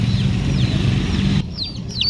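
Newly bought backyard chicks chirp in short, high, repeated peeps close by, over a low, busy background murmur.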